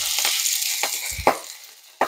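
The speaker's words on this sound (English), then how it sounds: "I let my skillet get too hot" Egg pancake batter sizzling hard in an overheated skillet, a steady loud hiss broken by several sharp clanks and scrapes of a utensil against the pan, with no voices.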